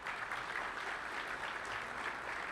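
A business luncheon audience gives a sustained round of applause, steady dense clapping at moderate distance with no pauses.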